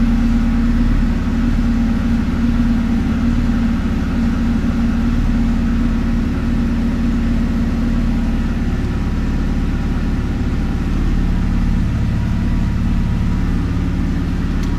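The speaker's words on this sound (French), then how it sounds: "Le ralenti a l'air un petit peu plus élevé." A cold 1990 Alfa Romeo Spider engine idles at a slightly raised speed, producing a loud, close, unbroken hum that holds steady from start to finish.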